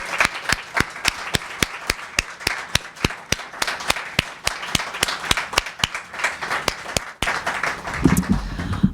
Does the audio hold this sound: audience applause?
yes